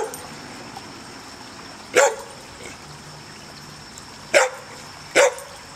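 A dog gives three sharp, separate barks, close and loud, against a quiet background with a faint trickle of water.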